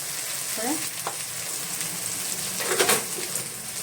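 Turmeric, cumin and coriander powders sizzle and fry in a pan for a Bengali fish head curry, a steady close crackle with a few stirring scrapes.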